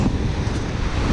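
A large ocean swell surges onto a west-facing beach at near low tide, a continuous broad rushing roar of churning water mixed with wind buffeting the microphone, steady and loud throughout the short moment.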